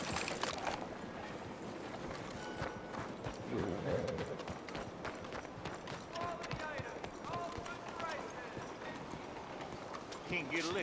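A horse gallops in Red Dead Redemption 2, its hoofbeats a steady rapid clip-clop under constant ambient game noise, with someone speaking over it.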